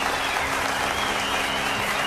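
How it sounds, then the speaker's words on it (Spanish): Audience applause at a festival opening, a dense, steady wash of many hands clapping throughout, fairly loud and close, with no talking over it. "Un fuerte aplauso."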